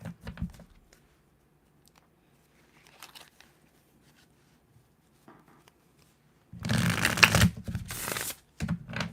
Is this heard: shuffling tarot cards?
yes